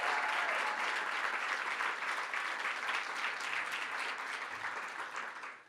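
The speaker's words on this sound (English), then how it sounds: "Let's give them a round of applause." Dense, sustained audience applause fills a hall at a political caucus event honoring a congressman, loud and steady throughout before tapering slightly at the end.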